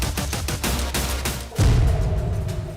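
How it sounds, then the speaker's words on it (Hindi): Rapid bursts of gunfire crackle in quick succession during a drone attack on a military base, followed by a deep, heavy explosion that booms and rumbles. "हर ओर से विस्फोट की आवाज आने लगती है"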